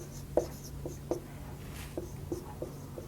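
A pen writes on a board during a maths lesson, giving a handful of short, faint scratchy strokes at an uneven pace over a low steady hum.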